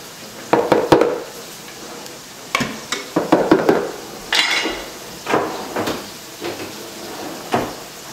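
Uncooked rice poured into a pot for Persian sour cherry rice and stirred, giving irregular clatters, scrapes and knocks against the pot at close range, some in quick clusters and others spaced by short pauses.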